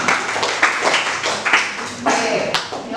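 A group applauds, likely a classroom audience: a burst of dense, close clapping that keeps going for a few seconds with sharp individual claps standing out.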